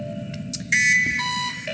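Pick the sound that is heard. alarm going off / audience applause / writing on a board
alarm going off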